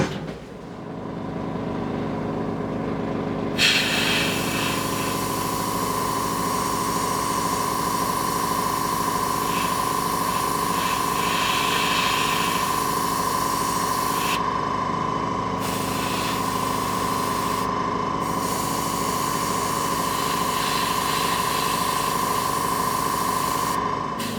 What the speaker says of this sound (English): airbrushing on each cookie